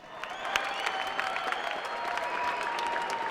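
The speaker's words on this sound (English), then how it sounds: "Give these two warriors a nice round of applause here." A cage-fight crowd gives two fighters a sustained round of applause, dense clapping with scattered cheers, moderately loud and steady throughout.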